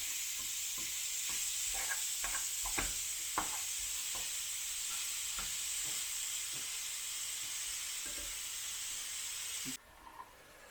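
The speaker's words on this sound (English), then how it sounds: "what I want to do is brown it, get it all brown everywhere" Beef mince browns in a frying pan with a broad, steady hissing sizzle and repeated light stirring taps, ending abruptly as the sizzle drops to near silence.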